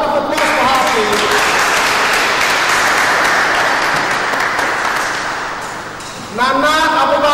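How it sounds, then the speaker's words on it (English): A round of applause from an audience at a school event at Marble Model Academy, Abuja, greeting a participant, dense and continuous, easing off near the end as a voice resumes. "Isabella Rafa, a round of applause for her"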